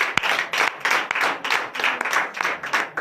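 A church congregation at a Sunday service in Comè, Benin, claps in acclamation to the Lord, rhythmic loud clapping in steady pulses, close and continuous.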